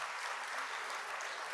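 An audience claps warmly at a church talk, a dense, steady burst of applause with no pauses.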